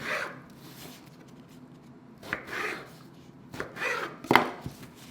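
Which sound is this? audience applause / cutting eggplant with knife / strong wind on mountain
cutting eggplant with knife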